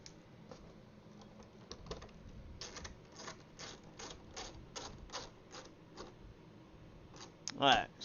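A ratchet clicks in quick rattling bursts while bolts are snugged down on a sim racing rig, close and fairly quiet, with someone talking briefly and a louder clunk near the end.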